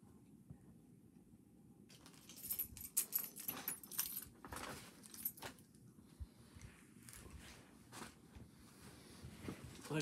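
Keys jangle and scrape while a key is used to cut open doll packaging, giving faint, irregular metallic rattles and clicks in a quiet room with no talk.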